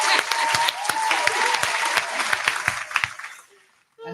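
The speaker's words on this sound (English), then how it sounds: "So yeah, I'm clapping again." A crowd claps and applauds at a podcast taping, dense steady clapping for about three seconds that thins out and fades, with a brief voice at the very end.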